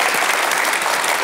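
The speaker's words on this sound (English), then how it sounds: "give them a big applause" An audience at a televised lecture bursting into applause, dense sustained clapping from many hands filling the room for a short burst.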